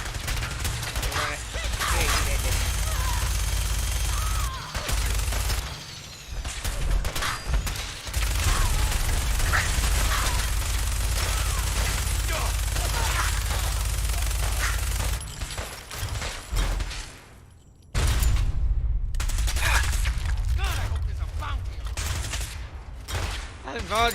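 Video game gunfire rattles in dense, nearly continuous bursts of automatic fire with a brief lull, loud and close throughout, while someone talks over it.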